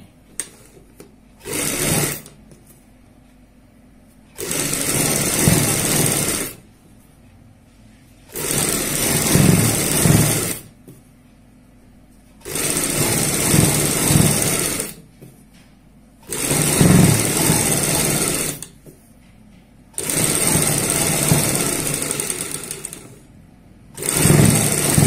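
A sewing machine stitches piping onto a kurti neckline in repeated bursts of steady, loud, fast whirring, each lasting a few seconds and separated by short pauses.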